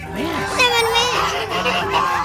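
A goose honks repeatedly nearby, loud nasal calls overlapping amid background chatter and other birds.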